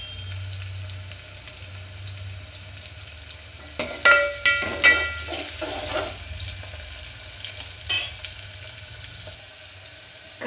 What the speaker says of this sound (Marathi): असं मस्त आपण याला तेलात परतून घेऊ।